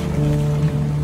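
A car driving through water on a forest trip, a brief close rushing slosh over a low engine hum, about one second long with no talk.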